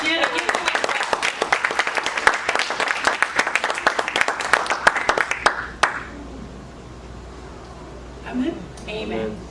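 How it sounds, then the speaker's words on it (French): A church congregation claps hands in a fast, steady rhythm for about six seconds, loud and sustained, then stops; a voice speaks faintly afterward. "Can you clap your hands?"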